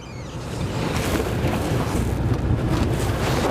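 Sea waves and strong wind batter a fishing boat off Jukbyeon port in rough weather, with waves of 1.5 to 2 metres; a steady, loud roar of surf and wind buffeting the microphone continues throughout with no speech.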